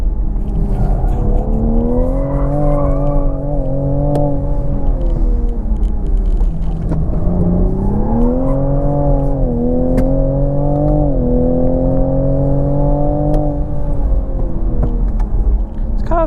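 A 2020 Toyota Supra is pushed hard on a track, its engine loud and close as it climbs through revs, drops on shifts and winds up again in smooth rising sweeps.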